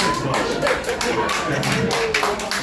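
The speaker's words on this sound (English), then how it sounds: "Oh, round of applause." Short burst of audience applause at a live show, a quick patter of claps close and fairly loud, tapering after a few seconds.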